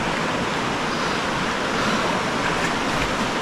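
River water near Madlum Cave rushes in a steady, broadband wash that stays constant and close throughout, with no voices.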